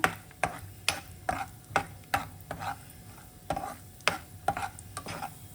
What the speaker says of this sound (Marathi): त्यामध्ये मी काजू घालतीये, बदाम. काजू बदाम छान आपण असं तुपावर परतून घेऊया.